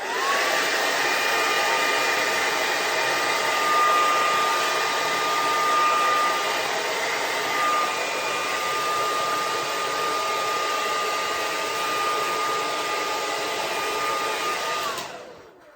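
A hair dryer running steadily to dry hair, a loud, constant whirring blow with a high whine that holds for about fifteen seconds before cutting off at the end, with no voices.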